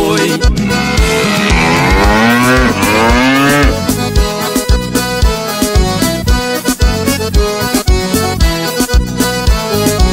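A cow mooing sound effect drawn out in a long, loud bellow opens a forró song, then gives way to a driving band groove with steady percussive beats.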